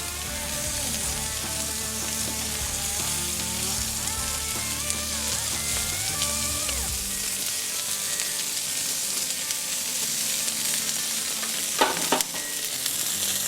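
Wagyu beef belly sizzles steadily on a grill beside other food already pushed to the cooler side, a dense, continuous frying hiss with no voices.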